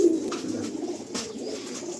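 High-flying Andhra pigeons coo softly at a breeder's loft, a few low murmuring calls close by over faint background noise.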